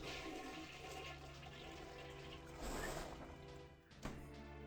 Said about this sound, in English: Flush, flush.